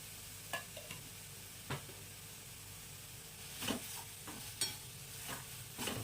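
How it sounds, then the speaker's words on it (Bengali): Gadal leaf paste with plenty of garlic and chilli sizzles softly in a pan while a spoon scrapes and stirs it in irregular strokes, quiet and close, no talking. "এটা অনেকক্ষণ ধরেই নাড়াচাড়া করতে হবে।"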